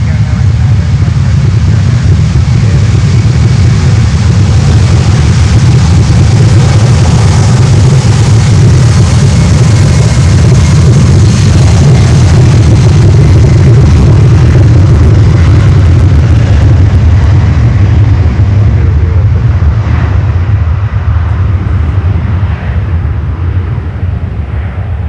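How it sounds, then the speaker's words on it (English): A LATAM Cargo Boeing 767-300 takes off from runway 9 at Miami, its jet engines producing a loud, continuous low roar that holds steady and then thins slightly toward the end. "Alright, LATAM cargo 767-300. Take off."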